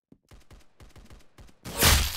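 Gunfire from the Roblox game Arsenal comes as a quick rhythmic string of about eight sharp shots, followed by a louder, sustained burst of noise at the end.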